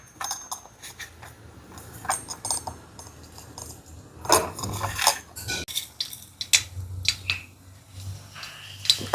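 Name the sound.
mustard seeds spluttering in hot ghee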